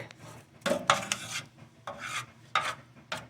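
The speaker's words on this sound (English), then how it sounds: "where did the screwdriver go? Here it is. Let's dig this filthiness out of here." A screwdriver scrapes an insect nest out of a newly bought Miller Spectrum 500 plasma cutter, making repeated rough rasping strokes in short bursts, close and fairly loud.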